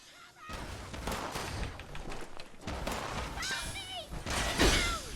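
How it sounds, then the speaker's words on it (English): An explosive shotgun firing in the video game Fallout 76, with several heavy blasts and thuds in quick succession over dense game noise and sweeping effects, busy and loud throughout. "I got an explosive shotgun."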